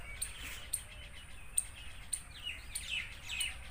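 Wild bird calls in Sindh, a few faint, sharp high chirps repeating at intervals over a quiet outdoor background, with softer warbling toward the end.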